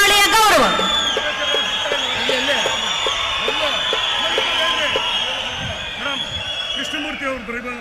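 A large crowd at a stage event roars and cheers as Deputy Chief Minister DK Shivakumar arrives, a loud continuous wash of shouts and whoops that starts with a burst and stays strong throughout.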